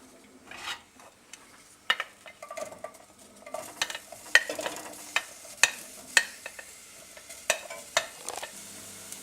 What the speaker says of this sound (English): We'll start off with around about a tablespoon of oil for our onions. Add the onions.